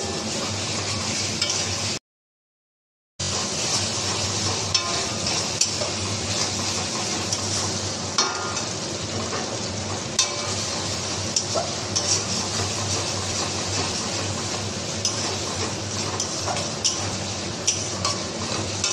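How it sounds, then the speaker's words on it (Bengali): Spice masala for chicken khichdi fries and gets stirred in a pan, a constant soft sizzle broken by scattered scrapes and taps of a spoon against metal, with a brief silent gap early on. "তো এখন মশলাটাকে শুধু কষে যাব যতক্ষণ না কাঁচা ফ্লেভারটা চেঞ্জ হচ্ছে"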